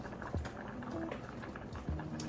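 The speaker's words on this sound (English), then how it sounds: "so we're gonna let it simmer in that a little bit" Shrimp simmer in scampi sauce in a pan, giving a quiet, steady bubbling with a couple of soft thuds in the background.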